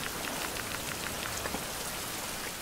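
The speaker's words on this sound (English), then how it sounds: "it can rain all at once now" Steady, dense rain pours onto a surface in the Survival Fountain of Youth game, a constant loud hiss of drops throughout with no voices.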